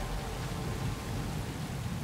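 Steady heavy rain with rumbling thunder in the Road 96 video game, a dense continuous wash of downpour with low rolling booms underneath, filling the whole stretch without speech.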